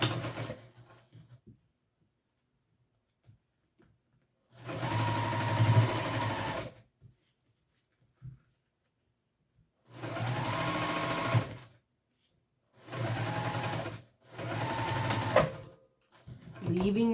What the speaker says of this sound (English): we're just going to go ahead and sew the 2 long edges back to our smaller stitch length